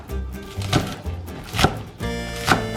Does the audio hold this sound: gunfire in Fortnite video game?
no